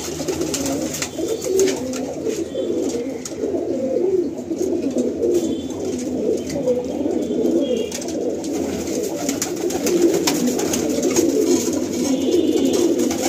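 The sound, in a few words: pigeons cooing in a loft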